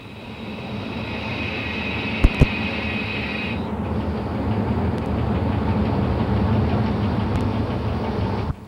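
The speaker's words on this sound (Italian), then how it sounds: "Ultima frenata per l'arresto." A 1990s Ferrovie dello Stato diretto train on the Udine–Trieste line brakes to a stop at Cormons station: a steady rolling rumble with a high brake squeal that cuts off partway, two sharp knocks, then continuing grinding noise until a final thud.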